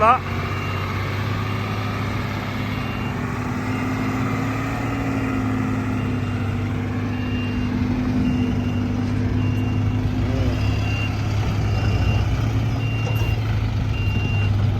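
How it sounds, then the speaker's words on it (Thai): New UD six-wheel dump truck reversing to load soil, its engine rumbling steadily while a faint repeating reverse beeper sounds throughout, with someone talking over it. "เดี๋ยวถอยถอยไปใส่ดินก่อนนะครับ ถอยไปใส่ดินก่อน"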